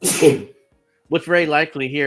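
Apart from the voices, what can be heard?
sneeze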